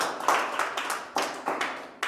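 Congregation clapping hands during a church worship service, a quick run of about eight sharp claps in uneven rhythm, close and fairly loud, without speech.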